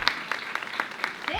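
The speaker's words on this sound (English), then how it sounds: "I need some claps for that one." A few sparse, evenly spaced hand claps from a small audience during a community arts podcast, mixed with voices.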